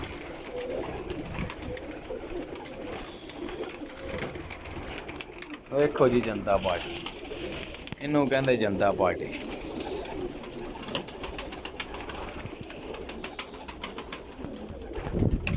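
Pigeons in a loft coo continuously, with two louder bursts of throaty calls standing out over a busy background while someone talks.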